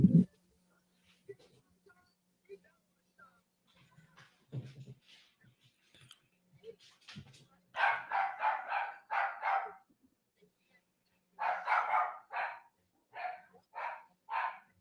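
Dog barking in two clear bursts of several rapid barks each, fairly close and loud, following a stretch of near silence with faint low murmuring.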